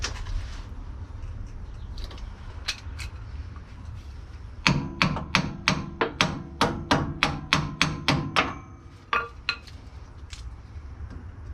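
A hammer taps pins out of the brake linkage on a Benson trailer, a quick series of sharp metallic clinks about twice a second, preceded and followed by a few isolated taps over low background rumble.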